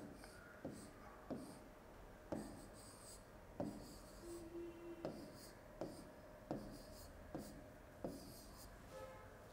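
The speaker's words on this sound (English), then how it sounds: "Let's try writing this number in this place value chart." A pen or marker writes numbers onto a place value chart in a rhythm of soft scratchy strokes, roughly one every second, close up but very quiet, with no voice over them.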